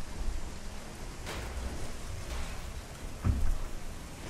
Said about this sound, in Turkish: Yağmur da ne bastırdı be arkadaşım.